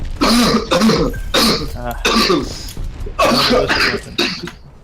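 Coughing and throat clearing into a microphone during an Overwatch session with Discord guests, several close, loud bursts spread across the moment, with bits of voice mixed in.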